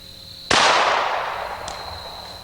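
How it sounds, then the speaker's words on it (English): A single solid point bullet fires in one sharp, loud crack at close range during a test session beside an earlier hollow point shot, its report decaying into a long ringing tail, with a faint tick following shortly after. "immediately to the left of it, let's shoot the solid point"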